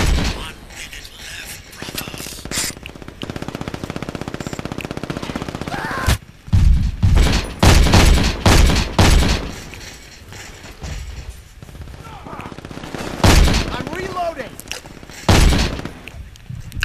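Pistol fire in the shooter game Brink: loud gunshot bursts in two clusters amid steady battle noise and clanking mechanisms, close and punchy.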